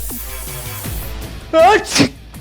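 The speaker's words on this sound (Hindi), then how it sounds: "तुझे केमिकल से एलर्जी है, मैंने पहले भी देखा है तुझे लगातार छींकते हुए" A person sneezes loudly, allergic to chemicals, in an indoor drama scene; a sharp two-part burst follows a stretch of quieter talk.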